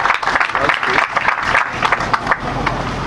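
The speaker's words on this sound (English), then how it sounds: "We should clap for that one" An audience at a speech on Igbo hospitality claps together in a fairly loud, uneven burst of applause lasting a few seconds.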